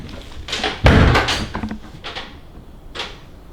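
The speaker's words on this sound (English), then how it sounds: "I didn't close that door." A door in a home closing by itself gives a few dull thuds and knocks, one louder bang near the start followed by softer bumps and a later knock, with no talking.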